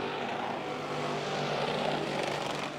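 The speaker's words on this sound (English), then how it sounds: "You still hear them bouncing off those rev limiters just a little bit, trying to get all the RPMs out of these engines that they can" Race car engines at a Northern Summer Nationals qualifying night, bouncing off their rev limiters, form a loud, steady, continuous engine drone throughout, with no talk over it.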